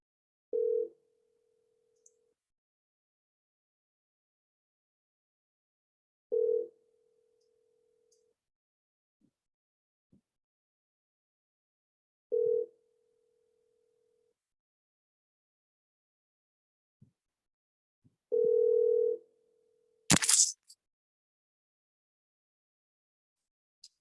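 Ringback tone from a phone call to a self-storage business: four evenly spaced buzzing rings about six seconds apart with silence between, then a sharp click as the line connects.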